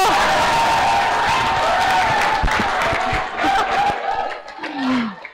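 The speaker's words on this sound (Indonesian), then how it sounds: "beri tepuk tangannya dulu" A crowd claps and cheers in a dense burst that gradually thins and fades, with a tonal hum running beneath, at a city-issues debate event.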